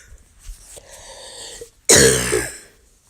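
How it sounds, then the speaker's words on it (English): A person coughs indoors: a quiet stretch of low background, then one loud, harsh cough burst that fades over about a second, with no speech. "Oh, bloody cough."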